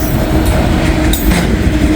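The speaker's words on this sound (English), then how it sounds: "Couplers are rubbing up against each other." A passing CSX train rumbles loud and close, with its couplers grinding and rubbing against each other in a dense, rough, continuous roar. Faint squeals sound over it.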